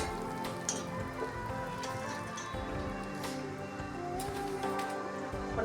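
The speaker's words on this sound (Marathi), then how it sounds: "अशा प्रकारे आपले वडे तळून झालेले आहेत" Vada fritters frying in hot oil, a steady close crackle and sizzle with scattered pops running throughout.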